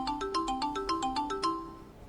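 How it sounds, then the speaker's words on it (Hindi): A phone ringtone plays an incoming-call melody of repeated bright electronic tones, about ten notes in a steady rhythm, loud and alone with no voices, fading toward the end. "सर आपका फोन आ रहा है।"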